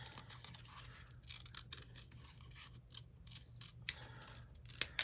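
Scissors snip through a sheet of patterned paper for a mini Easter basket craft, a run of soft, close, irregular cuts and paper rustles, quiet overall, with a couple of sharper clicks near the end.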